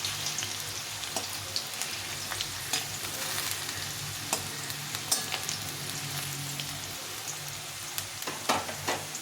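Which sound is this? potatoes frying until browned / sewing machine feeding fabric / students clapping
potatoes frying until browned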